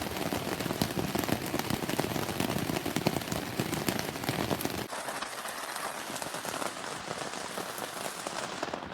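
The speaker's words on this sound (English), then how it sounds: "I just thought I'd let you hear the rain hit on the roof of our tent for a few seconds." Rain drums steadily on the roof of a tent at a campground, a dense close patter that softens partway through to a lighter, thinner spatter, with no voices.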